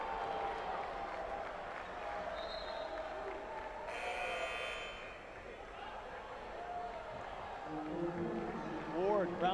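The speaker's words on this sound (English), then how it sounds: "round of applause as he exits." Crowd applause at a college men's basketball game, Nicholls versus Central Arkansas, a moderate wash of clapping and cheering in the arena beneath a commentator's voice, with squeaks and court noise toward the end.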